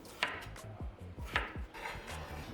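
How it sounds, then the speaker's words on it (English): A knife chopping peeled potatoes into bite-sized cubes on a cutting board, several crisp, close taps in an uneven rhythm with no talking. "I peel, rinse, and cut the potatoes into bite-sized cubes."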